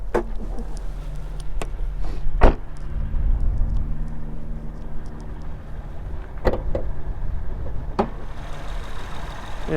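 A 2013 Acura MDX SH-AWD V6 engine idles smoothly and steadily nearby, a low constant hum broken by a few sharp clicks and knocks.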